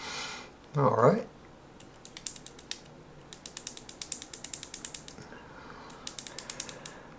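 A vintage Sears spin cast fishing reel, a Johnson copy, gives one brief rustle, then runs of rapid, close, crisp ratcheting clicks in several bursts.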